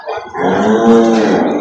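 A water buffalo lets out a single loud, close moo, low and throaty, rising into a drawn-out bellow.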